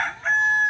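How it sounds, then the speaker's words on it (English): A rooster crows nearby in a backyard flock, giving one clear, loud, drawn-out cock-a-doodle-doo with no talking over it. "Sorry about the chickens, they see me."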